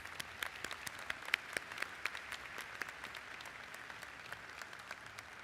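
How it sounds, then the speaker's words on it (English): Audience at a 2025 graduation ceremony applauding family and friends, a fairly quiet, steady patter of many hands with a few sharper individual claps standing out, heard from some distance throughout. "Let's just take a quick moment to show our gratitude and with a well-deserved round of applause"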